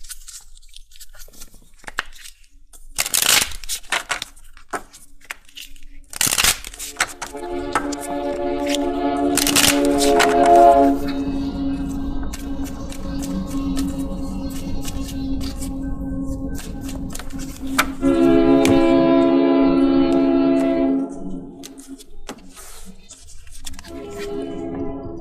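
A Synchronicity Oracle card deck is handled and shuffled close up, with sharp riffling bursts and crisp card slaps followed by longer stretches of flicking and sliding, while someone speaks intermittently.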